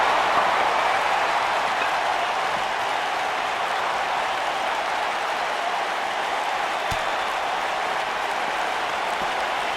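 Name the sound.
crowd cheering in WWE 2K19 video game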